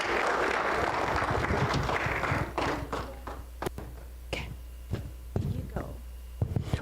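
An audience applauding candidates at an election debate, dense clapping that thins after a couple of seconds into scattered individual claps, with faint voices underneath.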